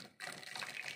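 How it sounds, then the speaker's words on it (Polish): Water pours steadily over oxidised tea leaves after a brief quiet start, a continuous close, fairly loud gushing stream that fills the rest of the moment without talk. "Teraz ja to zaleję"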